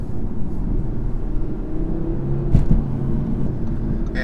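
A 2019 Audi RS3 five-cylinder engine drones smoothly and steadily from inside the car while driving, a low continuous rumble with a brief bump partway through.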